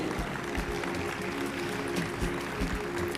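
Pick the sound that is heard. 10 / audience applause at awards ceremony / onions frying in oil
audience applause at awards ceremony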